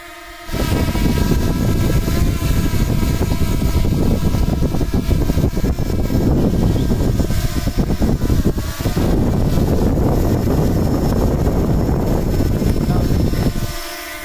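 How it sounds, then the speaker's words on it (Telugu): A DJI Mini 2 drone flies overhead with a loud, close, steady whirring buzz that starts abruptly, holds evenly for about thirteen seconds, then cuts away at the end. "మా పైన డ్రోన్ ఉంది, కావాలంటే ఫోన్ తిప్పి చూడండి, అదిగో డ్రోన్"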